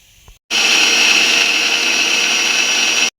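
A mixer grinder whirs loud and steady for about two and a half seconds, grinding coriander, curry leaves and green chili into a smooth paste, then cuts off abruptly.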